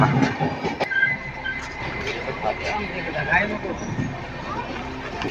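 A passenger train on the Diva–Sawantwadi route rumbles on in monsoon weather, with steady rolling noise, metallic squeals and clatter heard from inside a carriage, while voices murmur nearby.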